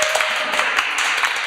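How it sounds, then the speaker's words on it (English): Audience applause breaks out for a guest at a Talkaoke chat session during a Friday Late event at the V&A: a dense, steady patter of many hands clapping, close and fairly loud throughout the short burst. "Give Shifra a round of applause"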